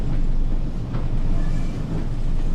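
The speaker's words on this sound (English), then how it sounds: "Now we'll just stop the train on the platform." A diesel train slowing to a stop at a station platform on the Tees Valley Line in Train Sim World, a loud steady engine rumble and low rolling noise with no talk.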